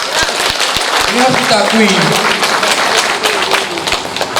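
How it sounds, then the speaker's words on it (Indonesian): An audience claps throughout a regional official's welcome speech in Aceh Singkil, a dense sustained patter heard under someone speaking over a microphone. "Tepuk tangan dulu."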